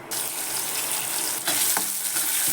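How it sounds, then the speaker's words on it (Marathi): Onion and tomato hit hot oil in a pan for a Marathi vegetable dish, bursting into a loud, steady hiss of frying with brief stirring clatters near the end. "इकडे तेलात मी कांदा टोमॅटो टाकले"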